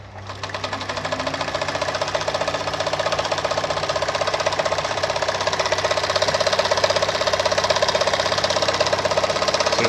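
A Kayser model 138 automatic sewing machine stitches steadily for about ten seconds, its fast, even needle rhythm and motor hum loud and close throughout, with no voices.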